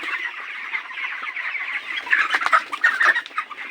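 Several chickens on a poultry farm cluck and chatter nearby, a busy overlapping stream of short calls that grows livelier toward the end.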